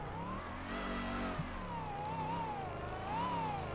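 Ford Mustang engine in the drifting game Torque Drift, revving with a sustained wavering tone that rises and falls as the car slides, steady and moderately loud throughout.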